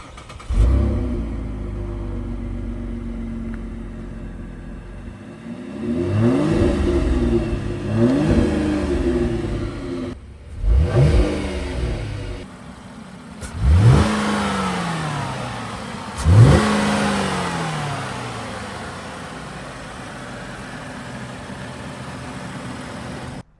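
A 10th-generation Chevy Impala with a 3.6 liter V6 idles smoothly, then is revved several times in separate rising-and-falling bursts that grow sharper, each dropping back to a calm idle, heard close with no talking.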